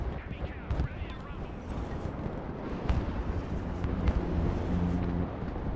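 Artillery fire in the war video game Broken Arrow, a battle near Riga airport: dull booming impacts and rumbling blasts roll through a dense, continuous din of distant gunfire, with a voice talking over it.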